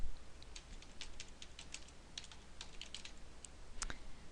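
Quiet, close typing on a computer keyboard, a brisk run of soft key clicks with a few louder taps, no voices.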